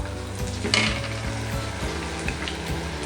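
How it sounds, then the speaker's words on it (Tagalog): Onion sautés in hot oil in a pan for bopis, a steady close sizzle with a few soft stir and scrape clicks, no voices. "Igisa natin yung sibuyas"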